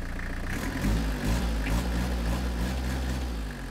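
A used van's engine idles steadily, a low even rumble throughout, close and continuous with no voices.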